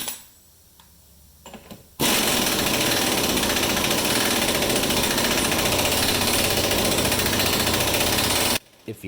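An impact gun tightens a threadlocked rear axle nut on a 2010 Mercury Mariner, starting after a few quiet handling sounds in one loud, close, sustained rattling burst for several seconds before cutting off abruptly.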